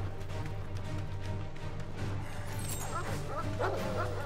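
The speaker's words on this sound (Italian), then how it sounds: "Cagnolini." Dogs in the game Final Fantasy XVI, several yips, barks and whimpers close by over a low, steady hum of game background audio.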